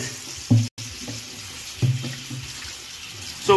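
Tap water runs steadily into a sink while mud crabs are cleaned, a continuous close splashing stream broken by a few knocks and clunks, with no speech.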